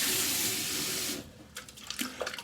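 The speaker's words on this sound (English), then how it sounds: "I'm gonna rinse with water a bit." A tap runs steadily for about a second while someone rinses with water, then cuts off and is followed by close, brief splashes and wet handling sounds.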